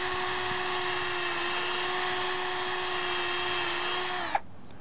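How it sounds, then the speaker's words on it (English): A power drill bores a hole for a ground anchor in one long steady whine at close range, then cuts off abruptly near the end, with no speech over it. "you just start to drill."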